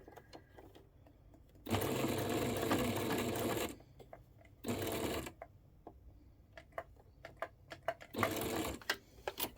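A sewing machine stitches a Yeti water bottle holder in three quick bursts of rapid whirring, separated by quiet pauses filled with small clicks and fabric handling, heard up close.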